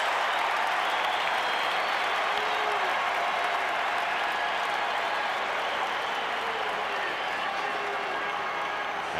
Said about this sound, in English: Makes the catch. And the crowd erupts.